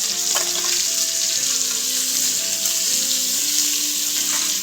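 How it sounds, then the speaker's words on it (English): Lamb fat sizzles and crackles in a hot casserole dish, a loud, continuous frying hiss close up, with faint tonal notes underneath and no voices. "That sizzle means that it's nice and hot and you're going to get a nice colour."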